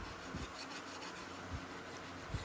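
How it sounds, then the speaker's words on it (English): Close, dry rasping strokes of sandpaper rubbed back and forth over wood, quiet and repetitive with no voices. "The endless sanding."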